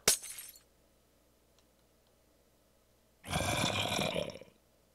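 A weakness splash potion shatters in Minecraft with a sharp glassy break at the start, then a second, longer burst of glass breaking about three seconds later. The breaks are loud and close, with near silence between them.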